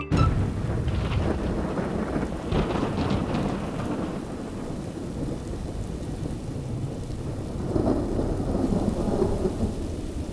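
Heavy rain pours steadily while thunder rumbles and rolls, with swelling crashes at the start and again near the end, loud and close throughout.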